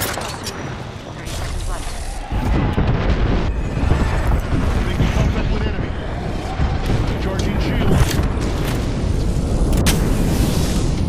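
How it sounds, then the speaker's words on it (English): Gibraltar's airstrike in Apex Legends sets off a dense, continuous barrage of booming explosions that starts abruptly a couple of seconds in and rumbles on loudly, with a voice talking over it. "Calling the airstrike."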